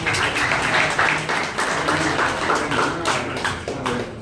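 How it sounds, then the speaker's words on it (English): An audience applauds at the opening of an NBA store in a Trinoma mall, a steady wash of clapping that holds for several seconds with slight swells and a faint voice underneath. "Let's give them a round of applause."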